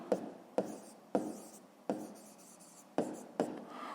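A pen scratches out numbers by hand on paper in six short, separate strokes spaced roughly half a second apart, close and clear with no talking.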